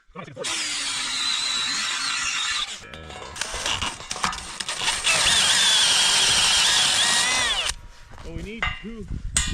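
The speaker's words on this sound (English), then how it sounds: "I'm gonna drill 2 holes in all this on the ground" Power drill boring bolt holes in pipe for a windbreak frame, with two long, loud whining runs split by rattling and handling noise, then a short burst near the end.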